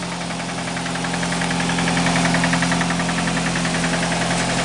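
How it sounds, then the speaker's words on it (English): A running engine knocks with a steady, rapid rhythmic tapping over a loud, constant mechanical hum, close up. "Got a little bit of a knocker here."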